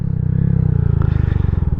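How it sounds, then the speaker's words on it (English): A 2025 Honda Grom fitted with a Zoom Loop full exhaust downshifts in a tunnel, its single-cylinder engine giving a loud, rapid pulsing burble with crackle as revs rise briefly, close to the rider and without talk. "I love the sound when it downshift."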